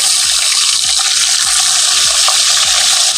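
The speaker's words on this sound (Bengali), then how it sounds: "কয়েকটা পটল আছে সেগুলোকে আমি ভেজে নেব" Pointed gourds (potol) fry in hot oil with a loud, unbroken sizzling hiss, close by, with soft low knocks recurring about every half second underneath.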